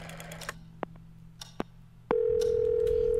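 A telephone line in the game Scratches gives a few short keypad-like beeps over a faint hum, then a loud steady tone begins and holds after the number is dialed.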